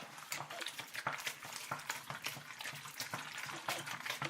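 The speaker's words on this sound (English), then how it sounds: "slowly, safely dump the sauce into the pasta. Take your spoon, mix it up." A spoon stirs sauce into cooked pasta, giving quiet, wet clicks and squelches in an irregular rhythm, close up and faint.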